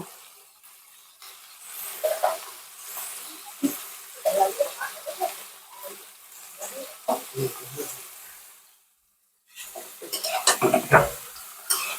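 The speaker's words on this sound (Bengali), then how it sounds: "এগুলোকে আমি একটু নেড়ে নেবো বিনস ক্যাপসিকাম দিয়ে দিয়েছি কড়াইতে এবার আমি গাজরগুলো দিয়ে দেব" Beans, capsicum and carrots are stir-fried in a wok, with intermittent clanks and scrapes of a spatula against the pan and a soft sizzle, broken by a brief pause and some speech.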